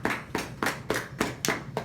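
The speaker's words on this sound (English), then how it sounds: "So if we can give a nice round of applause." A small group claps at a college hall putting league gathering, about seven sharp, evenly spaced claps close to the microphone with no talking.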